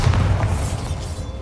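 A Bombarda explosion spell in Hogwarts Legacy lands as one deep, heavy boom, close and loud, whose rumble fades quickly within a second and a half.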